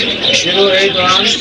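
Soft, throaty cooing from pigeons close by at the Jinjira pigeon market in Dhaka, overlapping with a busy background hum and indistinct voices.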